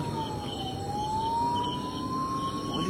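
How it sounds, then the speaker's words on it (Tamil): An ambulance siren wails steadily at a distance, its tone sliding slowly down and back up over a constant background rumble, with no voices over it. "போலீஸ் இல்லை, ஆம்புலன்ஸ் சவுண்டு கேட்குது."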